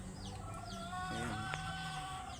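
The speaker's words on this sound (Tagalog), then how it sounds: "Yan yung mga sisiw na binibidyoan ko nung nakaraan na walang sakit." Young chicks on a small farm cheep in rapid high chirps over steady low clucking from fowl. The sound is continuous and close, with no talk.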